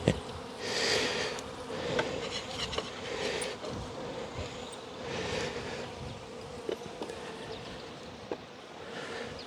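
Honeybees collecting on a comb make a dense, steady buzzing drone close by, swelling and easing in waves, with no talking.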